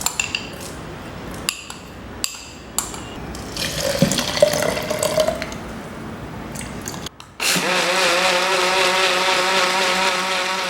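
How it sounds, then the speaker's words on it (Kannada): Rice being washed in water, with splashing and swirling under a running tap, broken by brief pauses, then a steady louder rush of water near the end; no talk. "ಈಗ ಇದನ್ನು ವಾಶ್ ಮಾಡಿ ನಾನೊಂದು ಮಿಕ್ಸಿ ಜಾರಿಗೆ ಹಾಕ್ಕೊಳ್ತೇನೆ"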